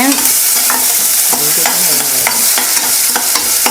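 Mustard seeds and onions sizzle and crackle in hot oil for a raw plantain stir-fry, with a spoon scraping and stirring the pan several times; close and loud, no talking.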